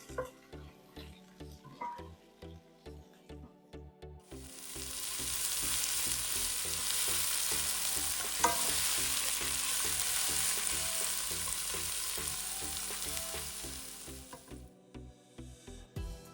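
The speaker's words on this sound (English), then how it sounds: "And we will add our 3 medium chopped onions." Three medium chopped onions sizzle loudly in hot oil for a masala gravy base, being stirred in a pan, a steady frying hiss lasting about ten seconds over soft background music, with quieter moments before and after.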